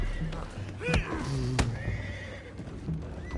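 Horses whinny and neigh loudly in a Red Dead Redemption 2 game scene, several sharp cries over clip-clopping hooves and background game ambience.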